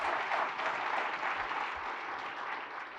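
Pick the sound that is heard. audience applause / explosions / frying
audience applause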